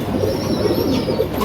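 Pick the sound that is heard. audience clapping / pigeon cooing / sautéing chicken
pigeon cooing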